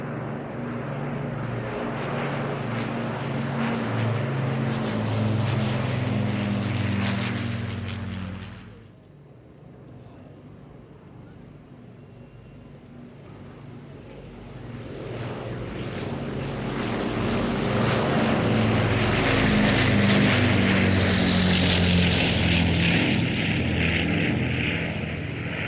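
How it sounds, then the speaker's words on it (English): A Lancaster bomber and a Spitfire of the RAF Battle of Britain Memorial Flight pass over a seaside airshow, their piston engines droning loudly, easing off to a quieter lull, then swelling again in a long roaring flypast. "a Lancaster and Spitfire from the Royal Air Force Battle of Britain Memorial Flight"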